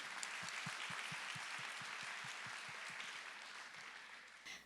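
Full-hall audience applause for keynote speakers Raj and Nalini Sharma at the Vision-Aid 2019 annual event: a steady, dense wash of clapping that holds for several seconds, then thins and fades near the end.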